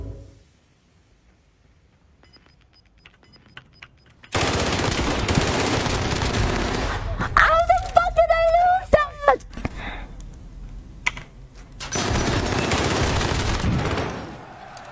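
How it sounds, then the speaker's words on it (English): Gunfight in the video game Warzone: dense bursts of automatic gunfire come in two long loud stretches with scattered single shots, while voices talk in between. "I can't believe how loud that gun fight"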